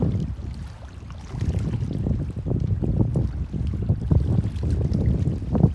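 Steady wind at a Bermuda shoreline buffets the microphone with low, rumbling gusts, rising slightly partway through and holding, with no voices.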